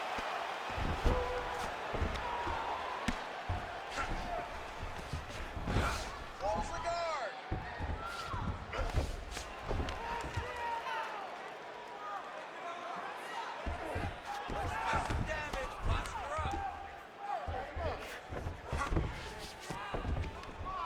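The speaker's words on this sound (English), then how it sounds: "Man, this is some serious ground and pound here" Repeated heavy ground-and-pound strikes land in a UFC fighting video game bout, Rampage Jackson against Khamzat Chimaev, as thudding impacts over constant crowd noise while commentators talk throughout.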